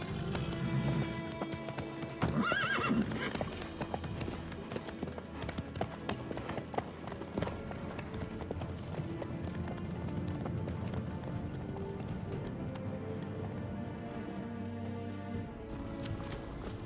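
A horse gallops in The Witcher 3 video game, with rhythmic clip-clop hoofbeats running steadily throughout, a brief whinny near the start, and game music and ambience underneath.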